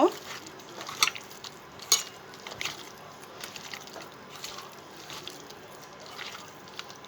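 Beef is kneaded by hand with ginger garlic paste for a traditional Chittagong kebab, giving soft, wet squelches and slaps in an irregular rhythm, close up and fairly quiet.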